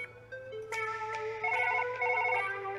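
Telephone ringing in the Surgeon Simulator video game, a synthetic ringtone with repeated warbling tones over a low steady hum, fairly quiet and alone.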